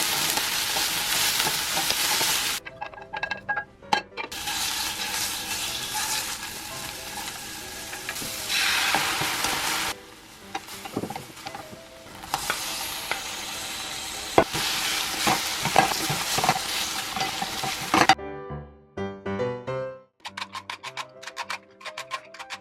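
Eggplant fries in a small, crowded pan of oil with a loud, constant sizzle, broken by repeated scraping and clattering as it is stirred, and quieter ticking stretches between.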